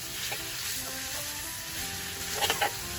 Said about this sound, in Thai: ตามด้วยเนื้อหมูสับนะครับ อันนี้มันสุกยากที่สุดนะครับผมก็เลยต้องผัด ผัดให้มันสุกก่อนนะ